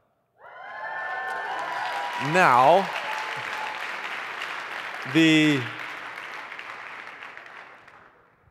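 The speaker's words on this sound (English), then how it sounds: "reason you're hearing the cheering" A church congregation applauds steadily and cheers after the announcement of a new youth pastor, with two loud whoops rising above the clapping. A voice speaks briefly over the crowd.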